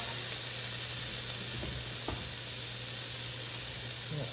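Beef broth is poured into a hot pan for braised beef short ribs, giving a steady, close hiss of sizzling liquid that holds evenly throughout with a couple of faint stirring knocks.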